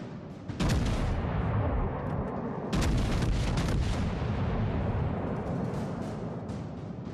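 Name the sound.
naval artillery fire from a video game (battleship USN Texas)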